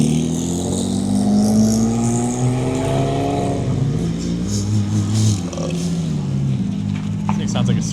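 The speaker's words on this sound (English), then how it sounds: "This thing sounds like a supercharged." A supercharged car at a race track revs up with rising engine pitch, then settles back to a lower drone, close and loud, with people talking over it.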